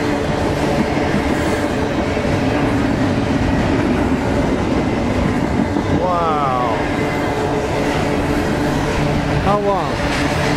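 A freight train rolls by with a constant heavy rumble, and a brief squealing or horn-like tone rises near the end over the noise.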